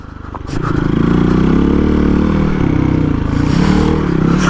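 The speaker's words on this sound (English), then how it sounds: "give it some throttle and it picks up" A Hero XPulse 230 motorcycle with a big bore build accelerates under throttle in second gear, its engine a loud, close, sustained drone that holds strong over several seconds.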